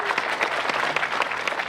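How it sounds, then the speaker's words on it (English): Audience applause at an outdoor pocket park dedication, a dense, steady wash of many hands clapping close by with no gaps. "So please give them a round of applause"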